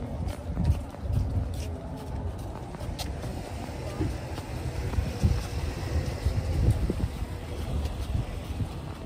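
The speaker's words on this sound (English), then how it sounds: "It's really windy." Strong wind buffets the microphone in low, gusty rumbles that rise and fall throughout, with a little faint background activity.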